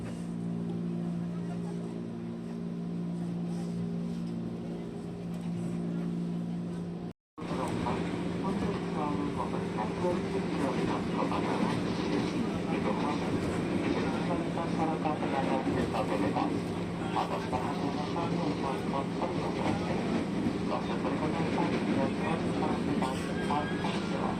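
Interior of a KRL commuter train travelling between stations near Universitas Indonesia, a steady low rumble and hum of the moving carriage that briefly cuts out, then returns with brighter rattling and track noise.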